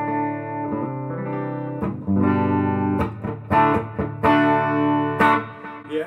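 Distorted electric guitar from a Gibson Les Paul bridge pickup wired with a 250K pot, playing sustained chords and picked notes with a warm, saturated tone, alone and close.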